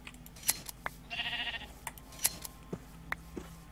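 Sheep in the Minecraft Skyblock game bleating once in a short wavering burst, set among quiet clicks and pops from gameplay at low level.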